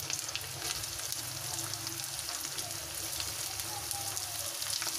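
Chopped carrot, capsicum and cabbage frying with onions for homemade chowmein, a quiet continuous crackling sizzle with light stirring, close but faint, no talk over it.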